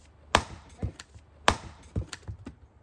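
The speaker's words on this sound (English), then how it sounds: "I have this little thing I do with the axe." An axe strikes wood on the ground while splitting straight-grained logs. Two sharp, loud chops land about a second apart, each followed by softer knocks and taps from the split pieces.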